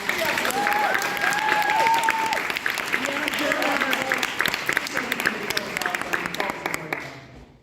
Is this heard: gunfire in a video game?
no